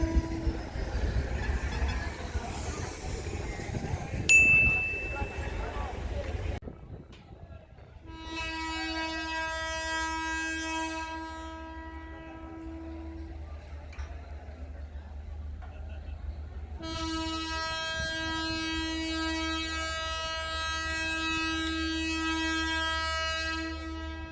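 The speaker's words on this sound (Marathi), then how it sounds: "बघूयात आपण जवळ येत आहे ट्रेन" A train arrives at Beed railway station on the new Beed–Ahilyanagar line, its horn sounding in two long blasts after some nearby chatter, with rumble underneath and someone speaking at moments.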